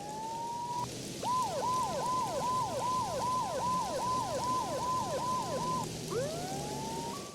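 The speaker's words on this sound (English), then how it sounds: "Mona must have heard the sirens too." A Max Payne 2 video game police siren wails in a repeating up-and-down pattern about ten times, fairly quiet and steady, then breaks into a single rising tone.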